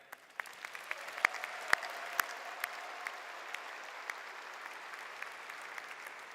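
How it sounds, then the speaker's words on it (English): Commencement audience applause at a university engineering graduation, a soft, distant-sounding crowd clapping with a few sharper nearby claps popping out, fairly quiet and steady throughout. "Hey, what about another round of applause for Lila?"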